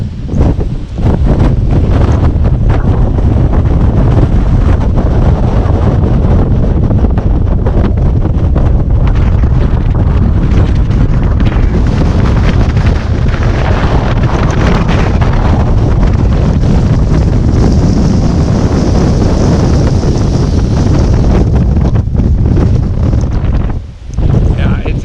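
Strong wind at the Pali Lookout on Oahu batters the microphone with a loud, continuous roar and heavy low rumble that barely lets up, briefly dipping near the end.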